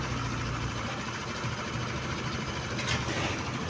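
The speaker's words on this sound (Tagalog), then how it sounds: "hindi namamatay yung makina, buhay pa rin" Motorstar Easyride 150 motorcycle engine idling steadily up close, a continuous low mechanical hum with a fine vibrating rattle, no voices over it.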